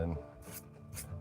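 A scratching tool is pulled down across a pencil drawing of a lion, leaving two soft, brief raspy strokes against a quiet background.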